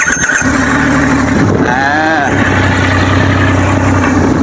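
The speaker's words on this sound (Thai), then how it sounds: "เรามาฟังเสียงนะครับสามสูบนะมันจะเป็นยังไงนะครับผม" A 2021 Triumph Rocket 3 R 2500cc three-cylinder motorcycle engine runs loud and steady throughout, with a brief rising whine partway as it catches and settles into a rough idle.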